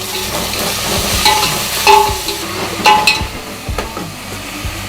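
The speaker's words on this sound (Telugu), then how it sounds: "ఇప్పుడు మనం కొత్తిమీర, పుదీనా, కరివేపాకు మొత్తం వేసేస్తున్నాను నేను. కలుపుకుందాం ఒకసారి." Coriander, mint and curry leaves are stirred into sizzling biryani masala in a pan: a loud, continuous fry hiss broken by several sharp spoon scrapes and clinks against the metal.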